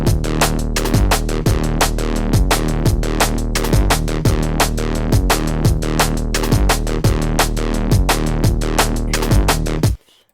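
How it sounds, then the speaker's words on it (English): Dark neurofunk bass arpeggio from a synth patch built in Vital, a loud, driving, marching pattern of repeated gritty bass notes with sharp rhythmic stabs, playing alone for about ten seconds before cutting off abruptly. "So I've got a dark bass ARP kind of thing made with Vital"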